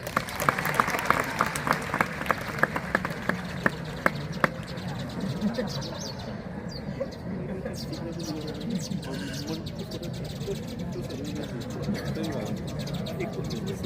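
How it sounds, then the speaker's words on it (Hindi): Audience clapping at a school science day event, a dense sustained patter of many hands with a few sharper claps early on, continuing steadily under a busy, noisy room. "जोरदार ताली बजाइए"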